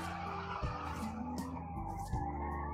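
A car drifting in Forza Horizon 5 gives sustained tire squeal and skidding over a steady engine drone, with a few sharp shifts in pitch as it slides. Loud and close, with no voices.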